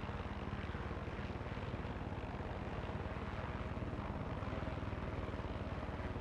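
A plane in the video game Far Cry 6 drones steadily in flight, a continuous engine and propeller roar that stays constant and fairly quiet with no voices.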